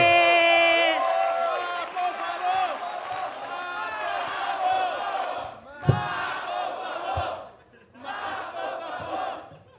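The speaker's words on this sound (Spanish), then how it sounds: "Reciban con un fuerte aplauso a el tío Robert." A comedy show crowd welcoming a comedian with cheering, whooping and shouting, loud bursts of voices with clapping beneath, dipping briefly and then rising again.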